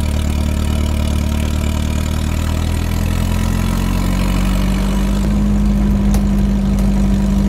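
A small car's 1.3-litre flat-four engine runs steadily on the road with a low, throbbing hum and drone, loud and continuous throughout, no voices.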